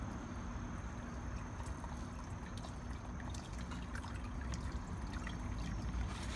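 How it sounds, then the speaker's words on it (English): Cold tap water runs steadily over cooked rice vermicelli being rinsed, a continuous close trickling and splashing stream with no talk. "this is the chance to rinse it so that there isn't as much of a turmeric flavor."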